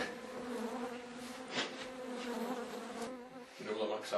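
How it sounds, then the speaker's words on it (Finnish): A fly buzzes close by in a steady, droning hum that wavers slightly in pitch and loudness, with brief louder passes, no speech over it. "Ai, täällä on kärpäsen lento."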